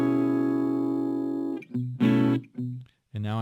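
Guitar chords strummed with the hand rather than fingers, from a guitar lesson: a long ringing chord sustains for over a second, then several shorter strums follow with brief gaps, close and clear.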